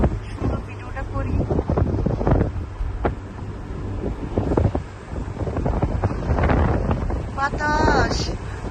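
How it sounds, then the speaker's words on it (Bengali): Gusty wind buffets the microphone outdoors on a walk past flowers, rising and falling in bursts throughout, with people talking over it. "বাতাস"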